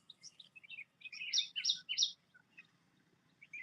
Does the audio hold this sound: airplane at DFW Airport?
no